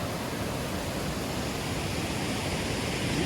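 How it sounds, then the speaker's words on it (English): The Kern River rushes fast and heavy as massive amounts of water pour down, making a loud, unbroken roar with no break or talking. "This river running is really fast"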